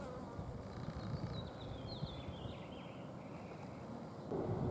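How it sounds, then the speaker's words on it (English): Bees swarm around the flowers of a blooming octopus agave spike outdoors. A faint, low buzzing hums under soft outdoor ambience, with a few light chirps passing in the background. "The bees are really swarming on the flowers here."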